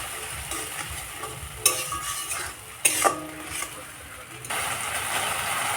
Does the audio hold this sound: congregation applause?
no